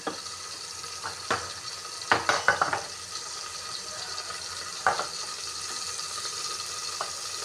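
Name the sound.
sautéing garlic and onion in a pan for sinigang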